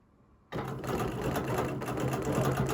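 A sewing machine stitches along a seam, starting abruptly after a quiet moment and running as a steady, close, loud mechanical whir for the rest of the stretch, with no talking.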